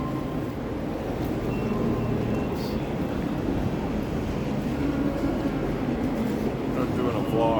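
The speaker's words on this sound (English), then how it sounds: "This is Waterloo Station," Busy ambience inside Waterloo train station in London on a weekday morning: a broad steady rumble of the concourse and trains with indistinct crowd murmur throughout.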